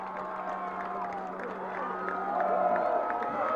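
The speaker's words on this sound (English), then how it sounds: "And Granite Hills, their bench, their fans, cheering them on." Crowd of fans and players on the bench at a CIF girls soccer final cheering for Granite Hills, a steady roar of voices with whoops and clapping that swells louder near the end.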